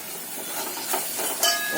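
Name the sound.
onion coconut paste sizzling while sautéed in oil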